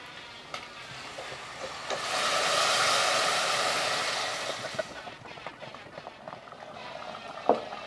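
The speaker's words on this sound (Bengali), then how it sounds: "মাংসটা ফুটছে" Goat meat boils in water in a pot on a stove, a steady bubbling hiss that swells louder in the middle and then settles to softer simmering with scattered small pops.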